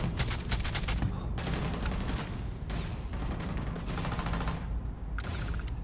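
Enemy gunfire in Starfield rattles on as rapid automatic bursts, loud and sustained, with short breaks between volleys and mechanical clatter mixed in throughout.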